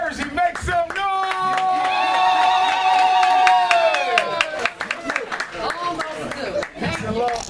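A lecture audience in Newark, New Jersey cheers, whoops and claps loudly for a few seconds, with shouted voices and a sustained held cry rising above the noisy crowd before it settles.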